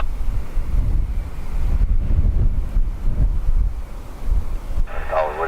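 Strong, blustery wind at Dublin Airport buffets the microphone in a steady low roar with gusty swells, and a faint tonal whine from an arriving aircraft rises near the end.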